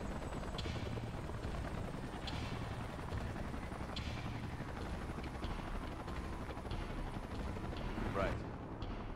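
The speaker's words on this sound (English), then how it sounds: "Let's call in the salvage choppers and get it out of here." Salvage helicopters in the video game Xenoblade Chronicles X give a steady, loud rotor thump and engine drone that carries throughout, with brief sharper bursts mixed in.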